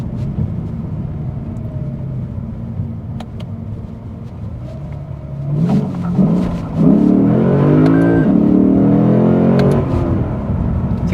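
A Lexus RC F V8 accelerating hard in first gear on an empty road: a steady engine drone that builds into a loud rising rev, gear-laden and close, with no talk.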